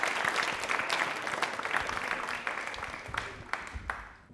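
Sustained audience applause for Colonel Alok Mathur of the Indian Army at a quiz event: dense, steady clapping from a crowd, fairly loud and continuous throughout, with a few sharper individual claps standing out near the end and no talk over it.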